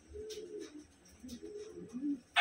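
Pigeons coo in soft, low, repeated murmurs among domestic birds, a steady near cooing with brief rustles and a sharper noise at the very end.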